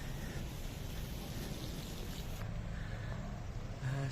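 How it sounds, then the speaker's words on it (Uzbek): Steady rain falls on a city street in Algiers beside old trees and palms, a continuous close hiss with a low rumble of passing cars under it and no talk. "Yomg'ir yog'yapti, to'g'ri?"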